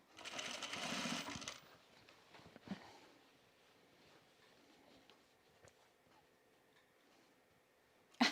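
A sewing machine top-stitches a pocket on a pair of jeans in one short close burst of rapid stitching, followed by quiet handling clicks and a faint knock.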